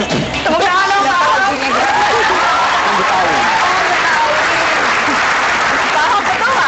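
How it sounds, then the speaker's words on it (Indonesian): A studio audience on a Jakarta evening talk show bursts into loud, sustained clapping mixed with cheering and crowd chatter, with voices rising over the applause early on. "Tepuk tangan dong, Pak."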